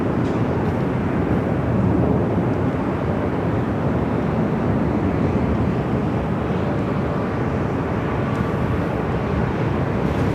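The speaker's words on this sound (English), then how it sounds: "this flight heading to SFO and this A320 Neo" An Airbus A320neo airliner at LAX, bound for SFO, roars in a dense, steady broadband rumble that stays loud and unbroken across the whole stretch, with no voices over it.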